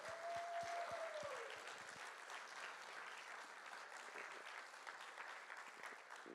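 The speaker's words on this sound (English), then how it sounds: "would you give them a round of applause?" A church congregation applauds in a steady, moderately loud wash of clapping, with a faint sustained tone fading out early and a few sharper claps near the start.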